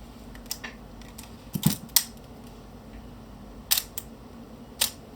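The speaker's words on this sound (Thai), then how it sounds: "ผมกดค้างอยู่ ก็ประมาณนี้นะครับในส่วนของสปีดชัตเตอร์ที่ เริ่มที่1นะครับ" Olympus OM-2 film camera shutter firing at slow speeds, a series of sharp mechanical clicks in pairs, each opening and closing separated by a short gap, close and crisp against a quiet room.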